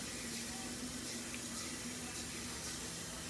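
A kitchen tap runs steadily, filling water to measure for cooking. It makes a continuous, even rush of moderate loudness with no voices over it.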